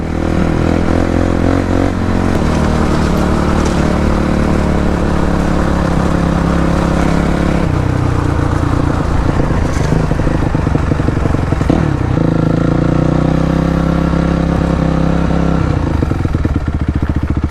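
A blown-up Honda CBR1000 motorcycle engine runs steadily and loud, a rough, clattering mid-pitched drone with slight shifts in tone over the whole stretch, close by and alone.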